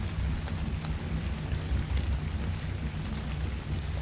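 Steady rain pours in the ARK: Survival Evolved game world, a dense continuous hiss with a low rumbling bed, holding even for the whole stretch with no voices over it.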